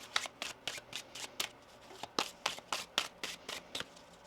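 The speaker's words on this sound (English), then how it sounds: "One more shuffle here." Tarot cards are shuffled by hand, close and quiet, in a steady series of crisp riffling slaps and flicks at a brisk rhythm.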